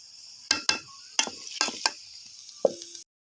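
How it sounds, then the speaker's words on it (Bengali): Small river fish curry being stirred and fried with spices in a pan, with a string of distinct scraping clicks and crackles from the spoon at an even pace, close and fairly quiet, with no talking. "আমার মশলা দিয়ে তরকারিটা সুন্দর করে কষাতে হবে ভালো করে"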